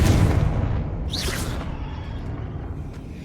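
A Confringo fire spell explodes in Hogwarts Legacy, a loud booming blast with a crackling burst that rumbles and decays over a few seconds.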